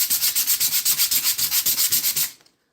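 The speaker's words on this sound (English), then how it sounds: "you can use a finer grit sandpaper" Sandpaper rubs over a cast iron pan in quick, rhythmic back-and-forth strokes, loud and close, about twenty even passes before stopping abruptly.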